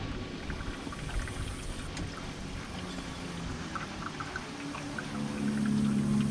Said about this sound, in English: Water pump's working.